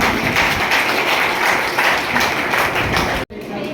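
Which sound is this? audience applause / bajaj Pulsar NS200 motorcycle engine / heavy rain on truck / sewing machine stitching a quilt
audience applause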